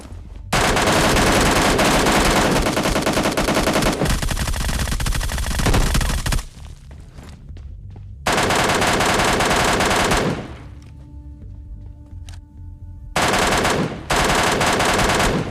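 Bursts of rapid automatic gunfire from MK14 and Groza rifles in the PUBG video game: loud, dense volleys lasting several seconds each, broken by short quieter gaps, with no talking.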